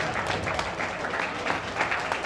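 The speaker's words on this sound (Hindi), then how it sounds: "जोरदार तालियां के साथ स्वागत करते हैं" An audience applauds, a dense, steady patter of many hands clapping at moderate volume.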